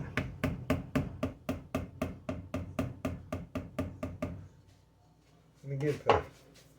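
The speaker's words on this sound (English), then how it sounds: "this says to whisk it, so we'll whisk it" A whisk beats vinegar pie filling made with brown sugar in a bowl, clacking sharply and rhythmically about fifteen times. The strokes then stop and a short burst of voice follows.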